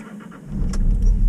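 A car engine cranks and catches, a low rumble rising abruptly and settling into a steady idle, close by.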